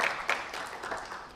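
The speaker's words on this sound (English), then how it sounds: "Special round of applause." Audience applause at a symposium on gut health and lifestyle disorders during the inaugural session: a brief, dense wash of clapping from a crowd, steady and moderately loud throughout, with no voices over it.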